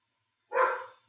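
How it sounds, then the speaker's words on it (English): Dogs bark in a back bedroom of a tiny house, heard as one short muffled bark from another room, fairly faint and following silence. "the very second we start, the dogs start barking in the back bedroom"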